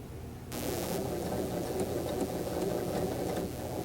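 A sewing machine starts up and runs in one steady, even whir, back stitching an edge stitch that holds down the facing of a hip pocket.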